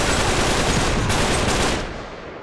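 Dense automatic gunfire in the video game Uncharted 3, a loud continuous burst of rapid shots that fades slightly toward the end.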